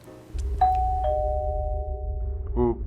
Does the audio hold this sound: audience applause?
no